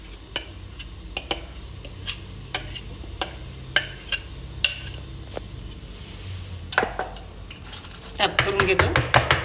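Dhokla batter tray tapped repeatedly on a counter to level it, giving a series of sharp, evenly spaced knocks, with a busier clatter of metal at the end and a voice talking over it.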